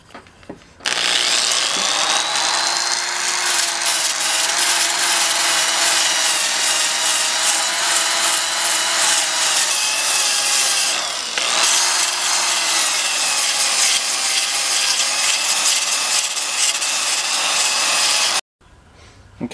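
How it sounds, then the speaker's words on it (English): A bandsaw slices a slot lengthwise down a wooden hatchet handle, a loud steady whining cut that runs continuously for most of the span with a brief dip midway, then stops abruptly near the end. "cut the slot down, the handle, on my bandsaw"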